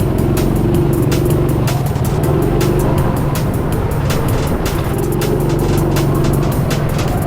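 Electric go-karts race around the Teamsport Docklands indoor track, a loud, constant whine and rumble from the nearby kart with a steady high hum and repeated sharp ticks.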